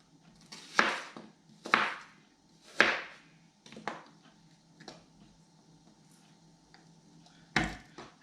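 A knife chops onion on a cutting board for Thai and Lao sausages, sharp irregular close thuds spaced about a second apart, fading to lighter taps before one last firm chop.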